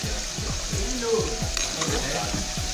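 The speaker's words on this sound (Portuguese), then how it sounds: "Vou deixar a nossa batata fritar mais um pouco" Potatoes frying in a pot for a meat-and-fries platter, with a steady, loud crackling sizzle of hot oil throughout, plus repeated low scraping thumps of stirring under the bubbling.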